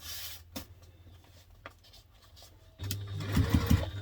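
A sewing machine stitches binding onto a laptop briefcase, starting with a few quiet handling taps and then a short, close burst of motor whir with rapid needle chatter near the end.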